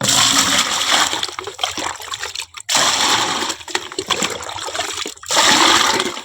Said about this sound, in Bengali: পাইপ দিয়ে টানতে জল এলো স্নান করবো টাটকা জলটা তুলে রাখি